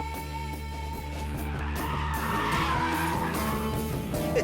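An Alpine A110 sports car drives hard with its engine droning steadily while the tyres scrub and skid, a continuous, close, fairly loud sound with no talking.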